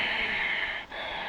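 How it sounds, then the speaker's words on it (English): A steady audible ujjayi ocean breath is drawn through a constricted throat, a soft breathy hiss close to the microphone that dips briefly partway through before continuing. "This sound we create while breathing in and out."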